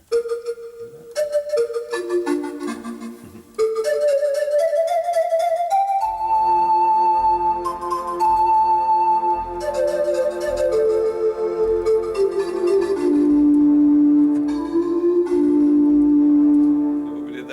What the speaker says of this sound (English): And we put some nice echo on there.